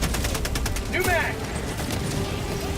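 Rapid automatic gunfire and distant bursts in a first-person shooter video game, dense crackling volleys under continuous game noise with a brief sweeping tone midway.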